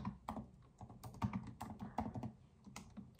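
Code is typed on a computer keyboard in quick, uneven bursts of close, crisp key clicks, with no talking.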